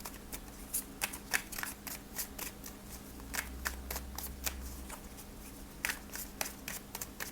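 A Dark Forest Neon Tarot deck is shuffled by hand: rapid, close riffling card flutters and taps repeating in quick irregular bursts, with no talking.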